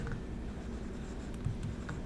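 Equations being written by hand on a board during a lecture on Gauss elimination, a steady scratchy stroking that runs through the whole short stretch at a moderate level, with no voice over it.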